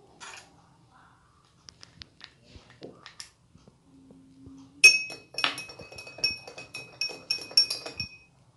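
A glass of water holding a sugar solution clinks sharply several times, first with a few small taps and then with a burst of bright ringing glass knocks that continue irregularly to the end, close and clear.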